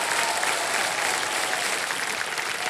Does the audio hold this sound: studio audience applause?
yes